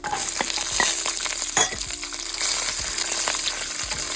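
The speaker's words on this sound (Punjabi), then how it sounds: "ਇਹਨਾਂ ਨੂੰ ਆਪਾਂ ਹੁਣ ਭੁੰਨ ਕੇ ਇਹਦੇ ਵਿੱਚ ਨਾਲ ਹੀ ਆਪਾਂ ਪਾ ਦੇਣਾ ਲਸਣ ਤੇ ਅਦਰਕ" Garlic and ginger roast in a pan with cumin, giving a steady, close sizzle with occasional stirring scrapes and clinks throughout; no one speaks.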